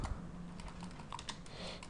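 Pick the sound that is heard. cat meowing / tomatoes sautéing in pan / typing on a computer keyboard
typing on a computer keyboard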